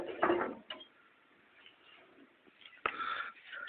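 A homemade potato planter's chain mechanism, its chain fitted with welded rings to pick up potatoes and driven by a motorcycle chain, clanks and ratchets close by in faint, uneven bursts of rattling metal.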